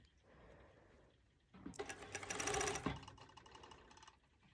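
A serger stitches a fabric seam on a sewing project in a quiet room, starting with a soft hum and then running in a fast, loud mechanical whir for about a second before slowing and trailing off, with no voices.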